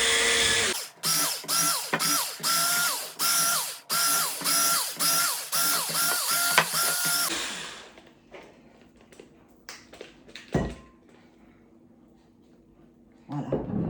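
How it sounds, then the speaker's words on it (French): A kitchen appliance mashes drained boiled potatoes into purée, giving off a series of loud, rhythmic mechanical whirring bursts for about seven seconds before stopping, followed by quieter clinks and handling noises. "j'ai fait égoutter mes pommes de terre et là je vais les réduire en purée. Donc moi j'utilise cet appareil là"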